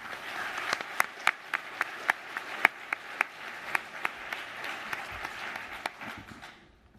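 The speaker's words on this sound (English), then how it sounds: "So they deserve a huge round of applause." Audience applause at a student cluster computing competition awards ceremony, a dense, steady wash of many hands clapping with a few sharper nearby claps standing out, fading away toward the end.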